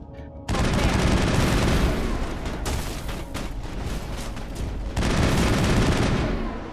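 Sustained automatic gunfire in the video game Mass Effect roars loud and close, broken by a brief lull midway and then a fresh burst that tails off.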